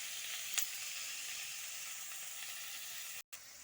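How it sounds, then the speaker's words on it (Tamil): Small onion and tomato sautéing in a pan give a steady, close sizzle throughout, with one brief sharp scrape early on and a momentary dropout near the end. "ஒரு சின்ன வெங்காயம், ஒரு சின்ன தக்காளி போட்டு வதக்கணும்."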